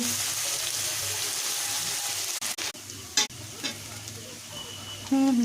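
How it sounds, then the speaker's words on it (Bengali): Capsicum, beans, carrot and potato sizzle steadily in a hot wok, broken by a few scraping, clattering stirs of a spatula. "ক্যাপসিকাম, বিনস, গাজর, আলু সুন্দর করে ভাজা হয়ে যাচ্ছে।"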